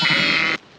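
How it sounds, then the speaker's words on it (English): A single sheep or lamb gives one loud, close bleat lasting about half a second, then cuts off into quiet. "So we're just moving sheep and lambs here."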